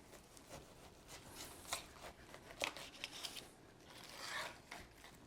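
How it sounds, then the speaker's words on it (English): A very sharp knife slices the crown off a pineapple about half an inch down, making close, crunchy rasping strokes and scraping cuts in a quiet setting with no talking. "we're going to take a very sharp knife and I'm going to cut the top of it off"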